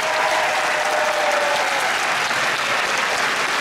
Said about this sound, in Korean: 다시 한번 멋진 무대를 선사해주신 선호밴드 분들께 큰 박수 부탁드립니다.